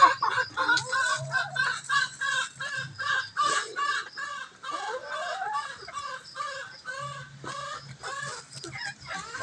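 Chickens cluck busily at a morning feeding, with overlapping close calls in a rapid, steady chatter and a few longer crow-like cries rising above the flock.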